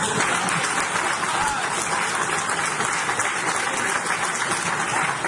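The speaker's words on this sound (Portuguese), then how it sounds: "Mereço uma salva de palmas." An audience at a political debate club gives a dense, even wash of applause that holds steady and loud from start to finish.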